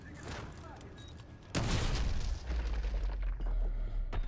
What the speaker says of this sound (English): The breaching begins.